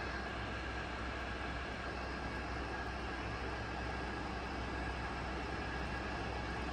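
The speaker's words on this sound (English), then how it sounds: "The spindle speed has been increased to 900 rpm." A TOS FNK 25A vertical turret milling machine runs its spindle at 900 rpm, giving a faint, steady mechanical drone with no breaks or changes.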